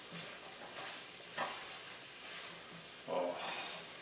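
Chicken curry ingredients sizzle softly in a pan while being stirred, a low hiss with a couple of louder scraping stirs, fairly quiet and with no talk.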